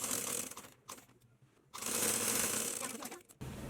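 A sewing machine stitches the front and back seams of palazzo pants, running in fast, steady bursts close by. The stitching stops briefly twice between runs, and there is no speech.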